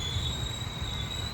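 A train at night pulls into Gandhinagar railway station near Ahmedabad, giving a steady, loud rolling rumble with a thin, sustained high wheel squeal above it.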